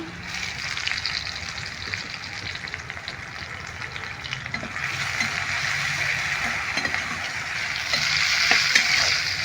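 A large onion frying in oil left over from prawns, stirred in the pan with a loud, continuous, hissing sizzle that swells toward the end, alone without speech.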